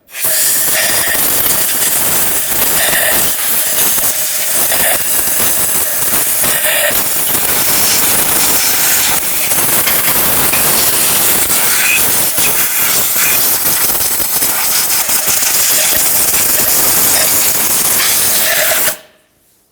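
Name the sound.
compressed air blowing around a Nissan Altima valve cover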